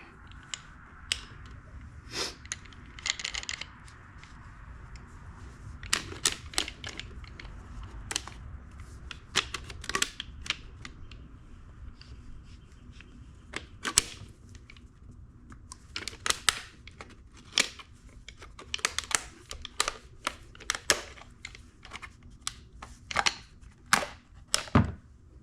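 A hand-turned oil filter cutter works around a Ford 2.3 oil filter, giving scattered sharp metallic clicks and scraping snaps over a quiet background, close by and irregular.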